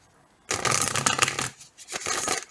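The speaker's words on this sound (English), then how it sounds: "I will give the deck a few more shuffles." A deck of tarot cards is riffled and shuffled close up, a sharp burst of rapid fluttering clicks followed by a few shorter shuffles, with no talking.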